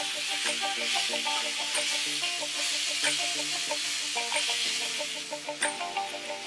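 Mushrooms frying in a pan, a steady sizzle broken by clinks and scrapes of stirring, fairly close with a few sharper knocks toward the end.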